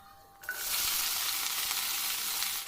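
Okra hits hot mustard oil tempered with whole cumin and green chilli, bursting into a loud, steady sizzle after a brief quiet start and holding strong to the end.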